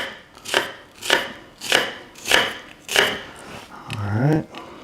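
Red onion chopped on a board with a knife, five firm, evenly spaced chops followed by a softer scraping sweep, close and clear.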